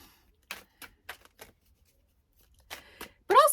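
A deck of tarot cards is shuffled by hand in a few short, crisp riffles and flicks separated by quiet gaps. A brief voice-like sound comes at the end.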